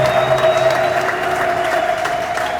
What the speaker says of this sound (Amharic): ለእግዚአብሔር ክብር አጨብጭቡለት።